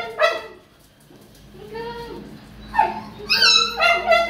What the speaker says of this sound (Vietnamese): đây là không gian khu chuồng chó Phú Quốc có đường Ngọc Hòa.